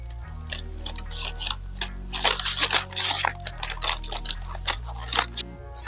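Scissors snip through doubled, folded fabric while a backless criss-cross top is being cut, making a run of crisp, close, irregular clicks and crunchy cuts over a low steady hum.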